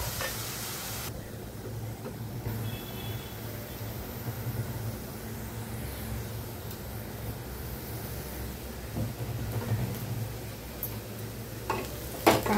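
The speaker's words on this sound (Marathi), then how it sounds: "कांदा भाजला आहे आपला." Onion fries in a pan with a continuous, even sizzle, and stirring and faint clinks sit under it throughout.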